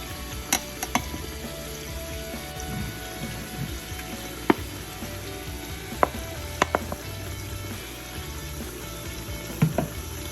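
Onions frying in a pan for Nigerian ayamase (designer stew) sauce, a steady low sizzle with occasional sharp clicks and taps of a utensil against the pan, no talking.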